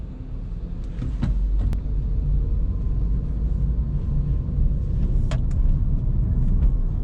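Low steady rumble of a Renault Zoe electric car climbing a steep hill, with road and tire noise under a faint hum and a few small clicks and knocks.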